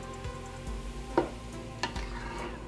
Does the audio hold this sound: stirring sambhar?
yes